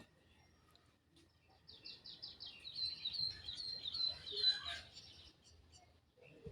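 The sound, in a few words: birds chirping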